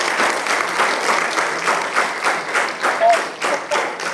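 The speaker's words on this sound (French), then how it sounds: "Je vais vous demander d'applaudir à nouveau pour ce très beau film Debout Kinshasa." Audience applause after a ciné-club film screening of Debout Kinshasa, with dense, even clapping from a room full of people holding steady throughout, and faint voices mixed in.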